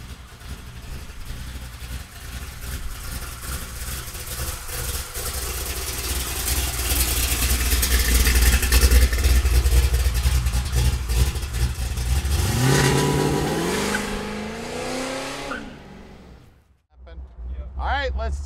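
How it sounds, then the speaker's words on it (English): A 1967 Chevrolet Camaro's 572 V8 engine rumbles at idle, swells louder, then revs up sharply in rising bursts before dropping away, close by. "It sounds like a AA fuel dragster running."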